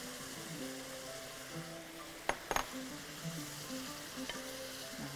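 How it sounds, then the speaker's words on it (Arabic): Onions sizzle and fry steadily in a hot pan, a continuous close crackle with a few sharp clinks of a utensil against the pan partway through; no talking. "اهو كده بدأت ايه تتشوح معايا، فتعالوا ايه انزل بقى البصل معاها."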